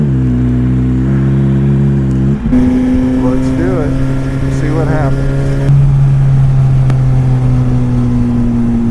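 A car engine with its exhaust valve switched open, revving loudly with a steady, throaty drone that jumps in pitch and grows louder partway through. Someone speaks briefly over the engine.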